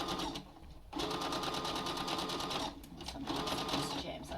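Sewing machine stitching a zigzag on a cloth face mask, a rapid mechanical whirring chatter that runs in two long stretches with a short pause between, close and clear, with faint talk underneath.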